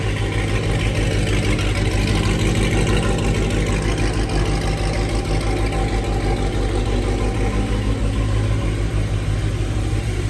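A Dodge Hellcat Redeye engine, freshly fired up in a red truck, idles steadily with a deep, throbbing low rumble that stays loud and even for ten seconds, with no talking over it.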